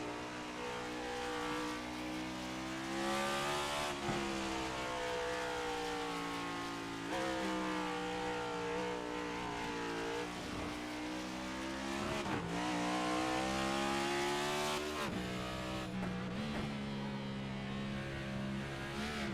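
Onboard the number 8 race car in a racing video game, the engine screams loud and constant, pitch climbing through each gear and dropping sharply on repeated shifts and downshifts.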